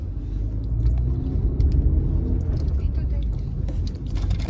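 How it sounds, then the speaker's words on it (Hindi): Heavy road traffic on a rough local road gives a steady low rumble of passing vehicles throughout, close and continuous, with a faint voice in the background. "तो बहुत ज्यादा ट्रैफिक है आज"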